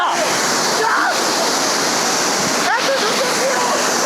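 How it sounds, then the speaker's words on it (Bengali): A large, powerful waterfall in Bangladesh roars with a dense, steady rush of falling water that stays loud and close throughout, with faint voices briefly audible beneath the torrent. "এখন এটা বাংলাদেশের সব থেকে ভয়ঙ্কর, সব থেকে বড় ঝর্ণা।"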